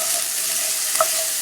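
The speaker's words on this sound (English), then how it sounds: "so let's saute our vegetables" Vegetables sizzle in butter in a pan, a close, even frying hiss that runs throughout, with one brief stir or scrape near the end.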